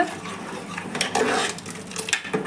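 Aloo matar, a curry of potatoes and peas, stirred in a pressure cooker, with a spoon scraping and clinking against the metal in quick, uneven strokes, close and fairly quiet.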